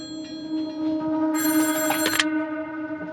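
A telephone bell rings loudly and steadily, one long continuous ring with a harsh metallic buzz through the middle, then stops abruptly and leaves a lingering tone.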